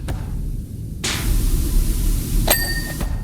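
A bright metallic ding rings out in the game Powerwash Simulator, a short chime with a ringing tail heard over the steady hiss of a pressure washer, with a couple of fainter clicks around it.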